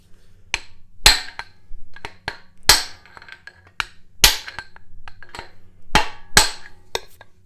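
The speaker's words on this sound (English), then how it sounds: "So we're just going to try to tap on it real lightly." Light hammer taps on a new Jeep Rubicon axle, struck through a piece of aluminum: about a dozen sharp, close metallic knocks at an uneven pace with brief pauses between them.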